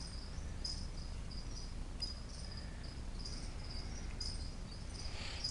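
A feeder cricket chirps inside a tarantula enclosure, giving short, faint, high-pitched trills at irregular intervals over a steady low background rumble.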